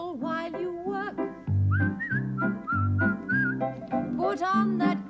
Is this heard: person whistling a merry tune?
yes